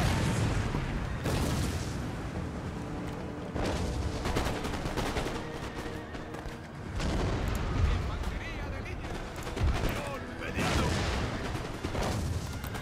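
Artillery canister shot in Empire Total War roars through a dense, continuous battle din of booming cannon and crackling musket fire, with heavy blasts recurring every couple of seconds and a voice talking underneath.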